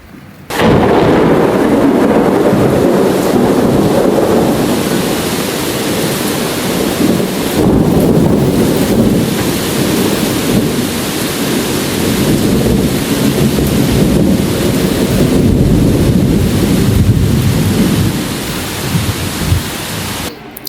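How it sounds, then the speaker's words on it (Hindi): Heavy monsoon rain pounding down during a wedding, with gusting wind and rumbling thunder, a loud, dense, unbroken roar lasting about twenty seconds with no speech. "बारिश ने तो हद ही कर दी,"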